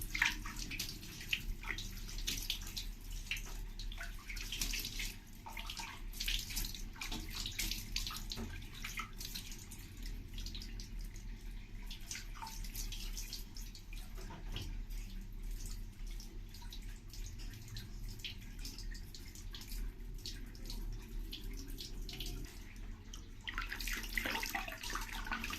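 Water runs steadily while Mona is bathed, a continuous soft splashing and dripping stream heard close and fairly quiet throughout.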